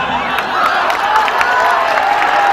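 Clapping and cheering from a crowd at a live Jhijhiya folk-dance programme outside Rajdevi temple in Janakpur, a steady dense wash of applause mixed with crowd noise and a few voices.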